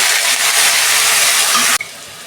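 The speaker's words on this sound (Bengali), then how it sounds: "কচুটা আমি 2 মিনিট ভেজে নেব।" Taro pieces dropped into hot hilsa fish oil, a loud close hiss and sizzle that roars steadily, then cuts down abruptly to a quieter crackle.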